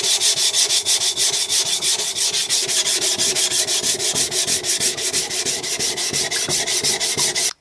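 A steel blade stroked back and forth across a Naniwa Advance S1 220-grit whetstone, a loud, close, evenly rhythmic gritty scraping that repeats rapidly for several seconds before stopping abruptly.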